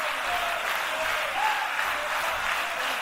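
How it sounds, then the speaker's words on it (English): Crowd at an indoor professional wrestling show applauding steadily, a dense, even wash of clapping filling the whole stretch with no break, fairly loud and close. "Crowd trying to get behind Scala and Smooth"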